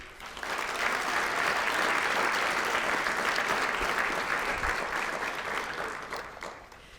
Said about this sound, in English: Please give a round of applause for Ariana Frazier.